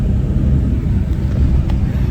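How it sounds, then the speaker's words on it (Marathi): Low, steady engine rumble from inside a moving Shivshahi bus, a constant droning hum with no voices. "बस निघाली आहे गाडी"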